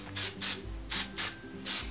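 Hairspray hisses from an aerosol can in five short bursts, each about a quarter second long and close to the microphone, separated by brief pauses.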